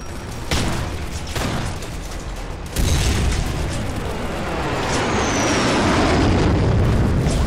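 Grenade explosion in the shooter game Kane & Lynch: Dead Men, a sharp loud blast followed by a rising roar of debris and rumbling echo, with earlier gunfire bursts before it.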